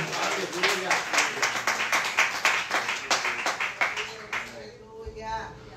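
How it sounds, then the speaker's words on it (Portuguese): A church congregation claps together in a steady rhythmic beat, loud and close, with voices mixed in before the clapping fades at the end. "Dê uma salva de palmas ao Senhor"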